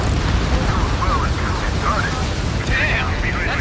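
Boats and buildings explode in the Ace Combat 7 video game, making a loud, continuous rumbling roar that runs throughout, with voices talking over it.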